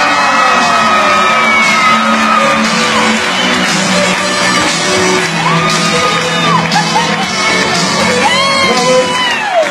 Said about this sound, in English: Massive applause for the winner of our competition